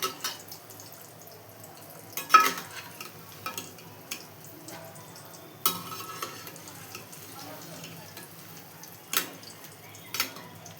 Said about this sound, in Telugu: కొంచెం మీడియం ఫ్లేమ్లో పెట్టుకొని ఇంకా వేయించేసుకోవాలి